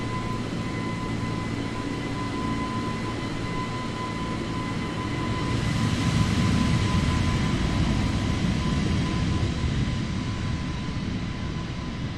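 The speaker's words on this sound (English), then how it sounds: "I thought the engine sounds with this were pretty good." A simulated Airbus A330 jet engine in Microsoft Flight Simulator, the Headwind A330 heard from the front, gives a loud, steady broadband roar with a fixed high whine that swells slightly midway and then holds, with no voices.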